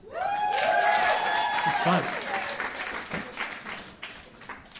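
Applause from a live audience at a Long Night comedy and music show, with voiced whoops and cheers, loud at first and thinning out, and a person talking over it.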